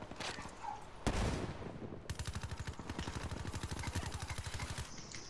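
Rapid automatic gunfire rings out during a team deathmatch in Black Ops 3. A single loud blast is followed by a long sustained burst of closely spaced shots, with quieter game sounds before it.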